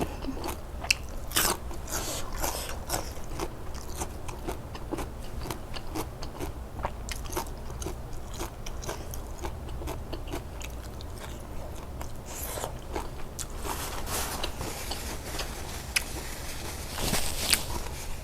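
Close, repeated crunchy chewing of crispy pork belly with a spicy Thai long-bean papaya-style salad, sharp irregular bites and mastication in a quiet room, no talk.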